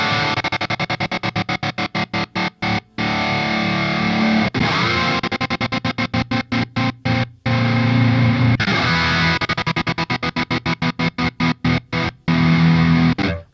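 A Graphene effects unit's stutter effect, with reverb added, chops a distorted tone into rapid accelerating bursts that repeat in waves, each run washing into a longer smeared tail, loud and continuous.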